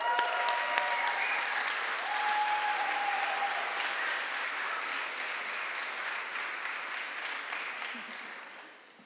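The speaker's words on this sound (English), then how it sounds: "Please give her a big round of applause." An evening conversation-event audience applauds warmly, a dense steady patter of many hands clapping that holds strong before tapering off near the end, with a few faint cheers early on.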